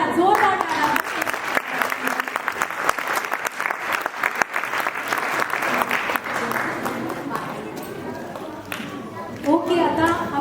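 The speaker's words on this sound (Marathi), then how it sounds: "एक अगदी छान टाळ्या, जोरदार टाळ्या" An audience at a Makar Sankranti children's cultural program bursts into loud, sustained applause, many hands clapping densely for several seconds before fading, with a voice speaking at the start and end.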